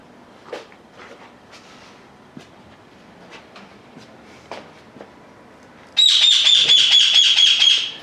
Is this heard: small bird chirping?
yes